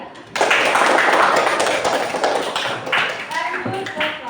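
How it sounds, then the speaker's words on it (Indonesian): A classroom group bursts into applause for a presentation team, a dense crackle of many hands clapping that starts abruptly and carries on for several seconds, thinning near the end as voices begin to chatter over it. "Ya, tepuk tangan buat kelompok 3"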